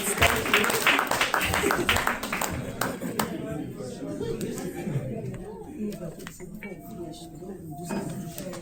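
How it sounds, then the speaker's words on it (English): Audience applause as people return to their seats after a debate session, loud scattered clapping at first that thins and fades toward the end, with a murmur of voices underneath. "Clap for them as they go back to their seats."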